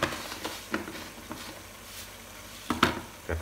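Buffalo stomach stir-fried with starfruit in a pan: a faint, steady sizzle under scattered clinks and scrapes of a utensil stirring, with a few sharper knocks against the pan near the end.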